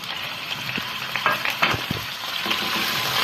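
Kidneys sizzle in a hot pan with corn oil, a steady bright frying hiss broken by clinks and scrapes as they are stirred around the pan, close up with no talking.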